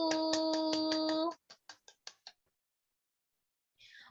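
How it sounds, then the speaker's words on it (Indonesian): A classroom group of students gives a few sharp, quiet claps for a presenting group, five or so separate claps in quick succession after a ringing tonal chime, then silence. "Tepuk tangan untuk kelompok 1."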